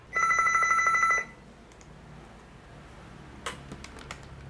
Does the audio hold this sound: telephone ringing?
yes